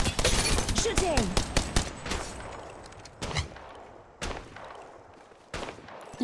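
Gunfire from the battle royale video game Apex Legends: a dense burst of rapid shots in the opening two seconds, then a few isolated loud reports spaced apart, close and sharp with a voice talking over the start.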